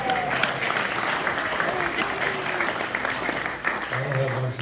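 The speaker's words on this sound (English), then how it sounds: "I really appreciate all the applause." Audience applause at a historical society general meeting, steady clapping filling the room with a murmur of voices running beneath it.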